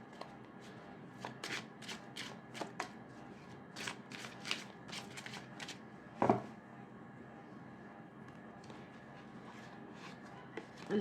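A deck of tarot cards is shuffled close by, with quick repeated flicks and riffles in an uneven rhythm and one louder slap of the cards partway through.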